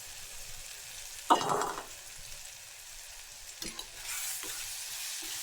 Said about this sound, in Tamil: வெந்தயத்தை போட்டு நல்லா வதக்கும்.